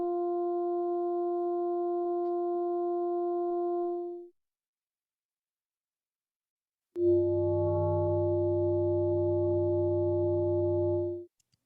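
Synthesised test tones built to evoke a feeling of tension: a steady pure tone for about four seconds, a pause of silence, then a louder, lower-layered sustained tone, all clean and alone.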